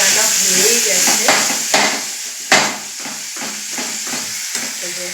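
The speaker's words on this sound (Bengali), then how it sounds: "আর এখানে মশলা কষানো হচ্ছে" Spice paste sautés in a pan with a constant sizzle, while a spatula scrapes and stirs it in repeated strokes, one sharper knock standing out partway through.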